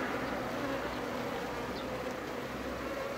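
A swarm of Japanese honey bees gathered on a board drones in a loud, dense, unbroken buzz close by, with no talking.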